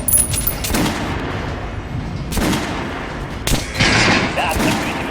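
Gunfire at an armored target dummy in Metro Last Light Redux: a few sharp, loud shots fired singly with short gaps between them, over a steady background of game noise.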